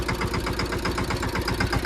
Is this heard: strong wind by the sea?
no